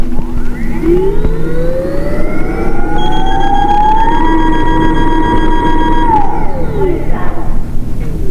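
A Leaperkim Lynx electric unicycle's wheel spins freely in the air, its motor whine climbing in pitch, holding a loud steady tone, then winding back down.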